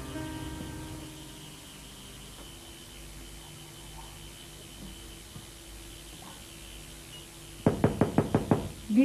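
Knocking on a door, a close burst of about six quick raps near the end, after a long quiet stretch of low hum.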